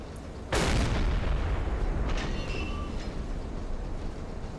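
A submarine deck gun firing a shell at a ship in the World War II sub simulator Silent Hunter 3, one sharp loud blast followed by a long rumbling roar with distant crackling impacts.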